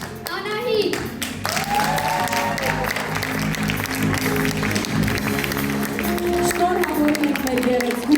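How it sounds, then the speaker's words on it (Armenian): Audience applause follows a rhythmic gymnastics routine at a dance studio competition, steady clapping from a crowd held throughout at an even level, with a host's voice and some children's chatter mixed in over it. "ավելի ջերմ ծափարենք"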